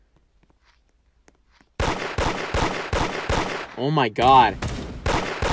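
Gunshots in the Da Hood mobile game, a burst of dense sharp bangs bursting out after near silence and repeating in loud rapid bunches, with a voice exclaiming over the fire.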